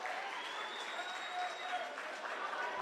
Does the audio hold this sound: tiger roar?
no